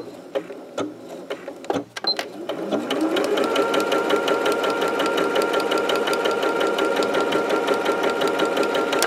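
A few handling knocks and clicks at first, then a sewing machine runs steadily and loudly up close, stitching a tote bag seam with a fast even rhythm to the end.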